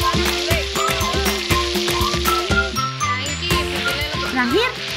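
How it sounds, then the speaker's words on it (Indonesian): Spice paste sautéing in hot cooking oil gives a steady broadband sizzle throughout, partly masked by loud, rhythmic tonal music playing over it. "Tuangkan minyak goreng sampai panas, lalu tumis bumbu."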